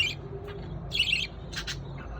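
Small pet birds chirp from above in short high bursts, a couple of brief squawky calls spaced over a couple of seconds against a quiet indoor background.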